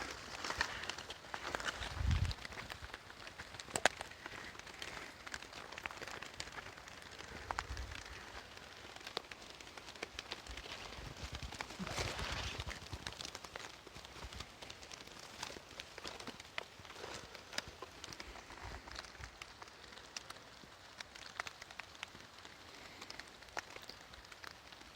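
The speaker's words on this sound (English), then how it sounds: "it's still raining on us" Steady rain falling through thick woods on a wet winter day while scouting for deer sheds, a soft constant patter with faint drips and occasional rustling footsteps close by.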